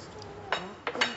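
A few light clinks of dishes knocking together while being washed, three brief sharp hits over a low murmur of background voices.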